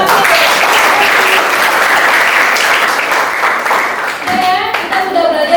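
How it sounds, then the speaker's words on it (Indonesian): Classroom applause from students after a lesson discussion, a loud, dense patter of many hands that runs continuously and fades near the end as a voice begins speaking. "Oke, tepuk tangan."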